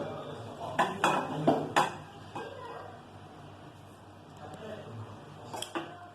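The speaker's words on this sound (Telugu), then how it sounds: "ఇప్పుడు రైస్ని ఈక్వల్గా కలుపుకోండి." Cooked rice being mixed with tamarind paste in a pot for pulihora, giving a few clanking scrapes of spoon on metal in short bursts, then softer stirring sounds at moderate loudness.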